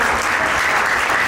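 A church congregation claps for a newly married couple at a Christian wedding service, a dense, loud burst of applause filling the room.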